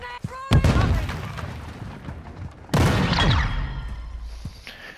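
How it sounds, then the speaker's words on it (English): A stun grenade blast and gunfire in Modern Warfare 2 multiplayer: a sharp bang, then rolling loud bursts of shooting and a second heavy burst, under scattered voices. "Throwing a stun grenade!"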